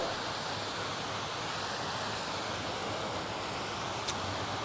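Steady broadband rush of fountain water flowing in Vigeland sculpture park, Oslo, continuous and even throughout with no voices, one brief faint tick near the end.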